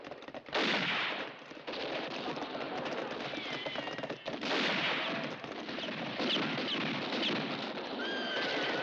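Bursts of machine gun fire crackle through a French action film scene, interleaved with panicked horses whinnying and hooves clattering, loud and chaotic throughout.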